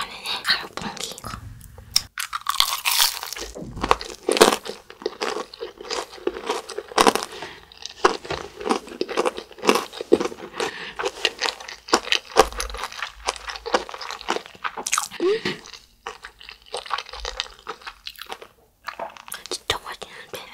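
Crunchy kkanpunggi, Korean sweet-spicy fried chicken, being bitten and chewed up close, with repeated crisp crunches and chewing sounds over about twenty seconds and soft speech mixed in.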